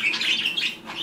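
A pet budgie chirps in a sparrow-like way, giving a quick series of close, bright tweets with short pauses between them.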